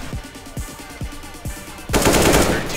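Gunfire in the first-person shooter CS GO: a few spaced single shots crack close and loud, then a dense, sustained burst of rapid automatic fire takes over.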